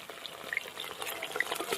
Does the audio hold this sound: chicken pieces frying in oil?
yes